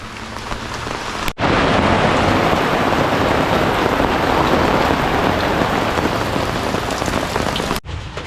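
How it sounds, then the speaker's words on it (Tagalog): Sudden heavy rain with large drops falling on surfaces: a dense, loud, continuous roar of pattering that starts abruptly and stops abruptly, with no voices. "Kaso biglang umulan. Ang lalaki pa ng patak."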